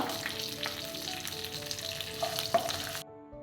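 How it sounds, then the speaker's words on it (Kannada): Chana dal, dried red chillies and curry leaves fry in hot oil in a pan, giving a loud, continuous close sizzle with a few sharp spatters and pops before it cuts off abruptly. "ಲೀವ್ಸ್, ಕಡಲೆಬೇಳೆ, ಒಣಮೆಣಸು ಇದನ್ನು ಹಾಕಿ ನೀಟಾಗಿ ಫ್ರೈ ಮಾಡಿಕೊಳ್ಳುವ"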